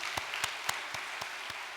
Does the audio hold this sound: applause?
yes